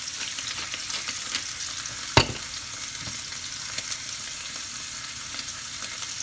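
Sous vide steaks searing in a hot pan give a steady, dense sizzle with one sharp clink partway through and a few soft stirring knocks, close and continuous with no talk.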